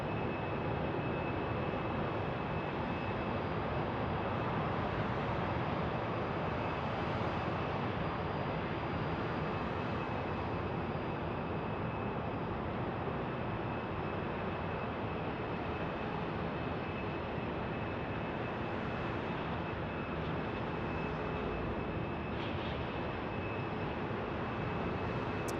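Jet airliner arriving at Phoenix Sky Harbor Airport, an A321neo among the traffic, heard as a steady distant engine roar that fills the whole stretch at low level with no talking.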